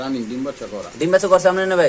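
Danish pigeons coo at a market stall selling pairs of breeding birds, a low repeated cooing that sits mostly beneath someone talking close by throughout.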